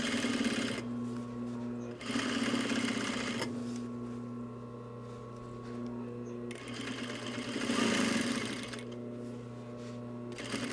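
Sewing machine stay stitching a zipper onto a shoulder bag, running in steady bursts with brief pauses between runs, close and moderately loud.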